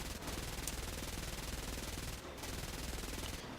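A bomber's tail gunner fires a machine gun in the War Thunder video game, a dense continuous rattling burst that is loud and close, with a brief gap near the end.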